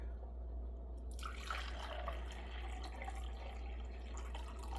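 Soft trickle of water running steadily into a container, starting about a second in, quiet and close with a faint hum underneath, as 350 grams of water are measured for a recipe.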